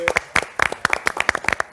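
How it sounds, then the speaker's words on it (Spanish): A small studio group on a Dominican TV morning show claps for the team in a quick burst of sharp, close, irregular handclaps. "Un aplauso a todo el equipo"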